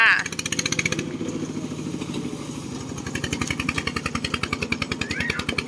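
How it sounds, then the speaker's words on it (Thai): An E-taen Thai farm truck with a stock ET110 engine and upward-pointing exhaust idles nearby with a steady rapid putter, its engine note running continuously and close throughout, with a brief shift in tone partway. "ฟังเสียงเครื่องนะคะ เครื่องนิ่มๆเดิมๆเลยนะคะ"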